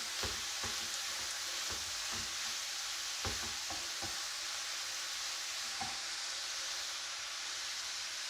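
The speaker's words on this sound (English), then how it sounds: "And in goes green pepper. I've just crushed them, and they also go in." Crushed green pepper fries in a hot pan for a Kerala pearl-spot fish dish, giving a steady, dense sizzle and hiss with a few sharp scraping stirs and clicks near the start, and no talking.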